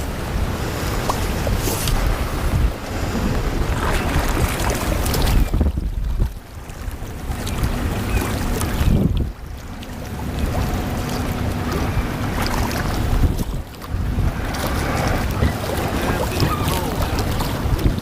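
Strong wind roars and buffets the microphone on a small boat on the water, a dense rushing noise with a few brief lulls between gusts, and no talking.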